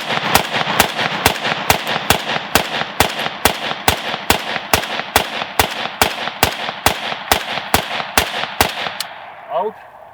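A Kalashnikov USA KR-103 rifle fires a full magazine, about twenty loud, close semi-automatic shots in a steady, rapid rhythm, ending with brief metallic handling sounds.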